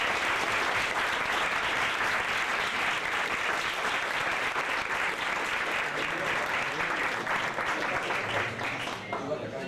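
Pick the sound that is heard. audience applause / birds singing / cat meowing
audience applause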